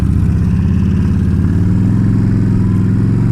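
A motorcycle fitted with heated grips is ridden at close range, its engine a loud, steady, throbbing drone that shifts slightly in pitch partway through.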